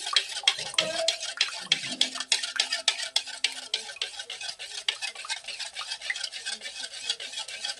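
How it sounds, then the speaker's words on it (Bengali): Two eggs are beaten together in a bowl for a homemade fruitcake, a fast, regular run of scraping whisk strokes close up that keeps a steady rhythm throughout. "এই দুটো ভালো করে মিক্সড করব। ভালো করে ফেটাতে হবে এই দুটো।"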